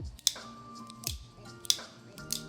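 Crisp mechanical clicks and snaps from a Benchmade Bugout 535-3 folding knife blade opening and locking shut, several sharp metallic clicks spaced apart, close up.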